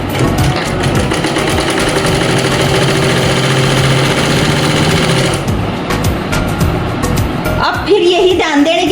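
Sewing machine running continuously, stitching a half-inch folded hem on a pair of pants, a loud close mechanical whir that stops near the end, followed by a voice talking.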